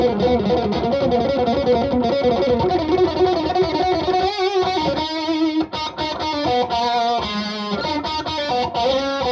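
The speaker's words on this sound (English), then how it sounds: "So Fender Strat, bridge, single coil, bass tone." Fender Stratocaster on its bridge single-coil pickup with the bass tone set, played through a Mesa Badlander 25-watt head with reverb on, giving loud, continuous driven electric guitar riffs and chords with a brief dip mid-phrase.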